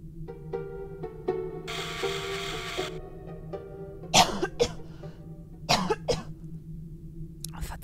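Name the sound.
cough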